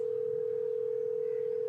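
A phone call is placed in a street prank setting, with a steady, continuous telephone tone held loud and close for nearly two seconds, then cut off abruptly.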